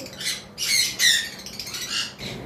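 A pair of normal-mutation lovebirds gives several sharp, raspy squawks in quick bursts, close by and fairly loud, with short pauses between calls.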